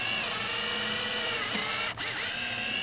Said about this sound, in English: And just drill holes all the way through.